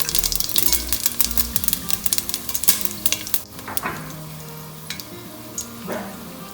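Cumin seeds and peppercorns crackling and sizzling in hot oil in a pan, a busy spattering fry with sharp pops, loud and close at first and then settling into a quieter sizzle.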